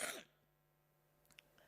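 A woman clears her throat once with a short, sharp cough close to the microphone, followed by near silence and a few faint small sounds.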